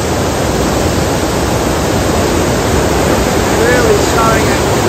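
A river rushes through Tully Gorge on a wet, rainy day, a loud, dense and unbroken roar of water filling the whole scene with no letup.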